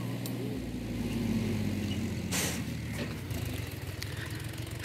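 An old Mahindra B 275 tractor, about 20 years old, idles with a steady, rough low chug and a brief rise in the middle.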